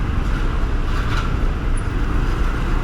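Busy city road traffic in Bangkok during Chinese New Year preparations, a steady loud wash of car and bus engines with a broad rumbling roar that stays dense and continuous throughout.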